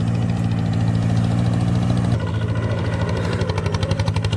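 A tractor engine runs loud and close in a rice paddy, holding a steady droning hum before an abrupt change in tone partway through as it shifts into second gear, then continuing with a rougher pulsing rhythm.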